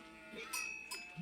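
Sheep bleating in the real-time strategy game Age of Empires 4, with a few short bleats rising over game ambience and a faint voice underneath.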